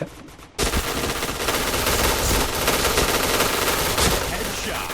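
Rapid automatic gunfire in the game Point Blank bursts in after a short quiet moment and continues as a loud, dense stream of shots to the end.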